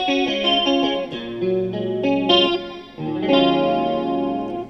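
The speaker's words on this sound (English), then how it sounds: "turn on the compressor. There we go, and I turn my flanger on" Clean electric guitar chords through a compressor and flanger ring out with a shimmering, swirling modulation and even, compressed sustain, played alone at moderate volume.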